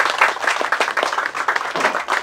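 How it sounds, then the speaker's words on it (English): Audience at a rocket science talk applauding, a burst of dense, close clapping that carries on steadily for a couple of seconds without talk. "round of applause, please."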